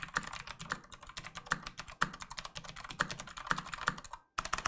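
Steady, rapid typing on an RK Royal Kludge typewriter-style mechanical RGB gaming keyboard, with crisp, close clacks in an uneven rhythm and a few louder strokes, broken by a brief silent pause near the end.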